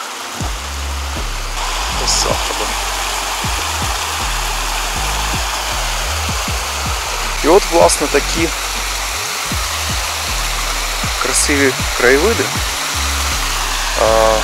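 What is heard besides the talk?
flowing mountain stream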